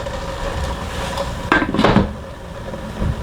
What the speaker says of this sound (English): And then in there we add our green figs.